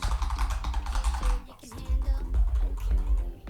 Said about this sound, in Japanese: シザーキーボードになったので、